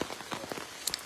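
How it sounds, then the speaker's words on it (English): Rain falls outdoors in a soft, steady patter of drops on surfaces, fairly quiet, with a few brief sharper ticks. "the rain did show up"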